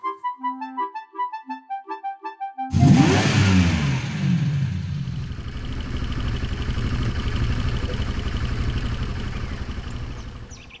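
A motorbike engine bursts into a loud, steady roar as the bike rides off, sustained and close for several seconds. A few seconds of tonal music play before the engine starts.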